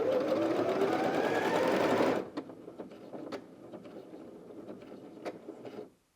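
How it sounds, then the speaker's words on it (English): A Janome 360DC sewing machine runs a steady, fast lock stitch for about two seconds, then stops, leaving faint clicks and handling taps in a quiet room. "So it will just sew 2 or 3 stitches on the spot to secure it."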